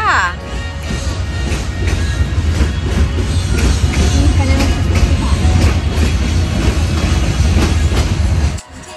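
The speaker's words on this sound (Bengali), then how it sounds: "ইস, কতকাল পর শুনছি এই ঝিকঝিক ঝিকঝিক ট্রেনের শব্দ" A big train rolls past on the rails nearby, a loud, steady rumble with rhythmic clickety-clack from the wheels lasting several seconds before cutting off abruptly, with voices underneath.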